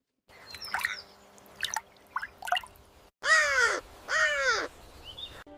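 Several scattered bird chirps and calls, then two loud, harsh caws of a crow close by, each lasting about a second.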